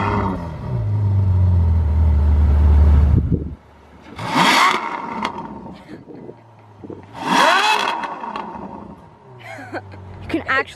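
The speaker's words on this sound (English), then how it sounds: "we're gonna start it so we can hear the exhaust" A Ferrari F12 Berlinetta V12 fires up with a loud starter whir and deep exhaust rumble, followed by two big revs that swell and fall back to a steady idle, with a final sharper blip.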